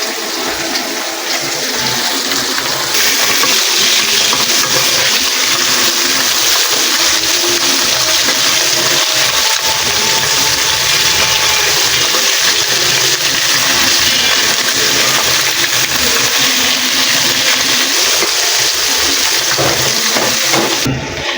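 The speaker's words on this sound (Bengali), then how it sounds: "মাছ ভাজা ভেজে নামিয়ে নিচ্ছি কিছুটা।" Fish frying in oil in a home kitchen, a continuous loud sizzling hiss that holds steady for the whole stretch, close by, with no voices over it.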